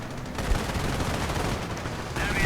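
Dense, continuous gunfire from tanks and heavy machine guns in a WWII strategy game, a Panzer IV among them, roars as a steady wall of loud battle noise with a few sharper reports, and no voice above it.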